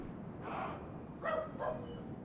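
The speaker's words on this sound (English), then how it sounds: "That dog was in the game, by the way." A dog in a Lord of the Rings strategy game battle barks about three times in quick succession, sharp mid-distance yaps over a low background rumble, with no talking.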